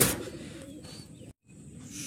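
Young pigeons in a loft coo in soft, low murmuring bursts, fairly close but quiet, with one brief dropout near the middle.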